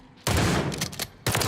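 Rapid bursts of shotgun fire from a video game weapon, a loud sustained volley of blasts, a brief pause, then another burst starting.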